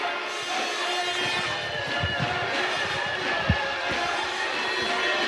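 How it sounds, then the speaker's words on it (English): Judo championship arena crowd at the World Judo Championships, a steady roar of spectators reacting to a throw, with thuds from the mat, under continuous commentary. "You can hear the reaction from the crowd."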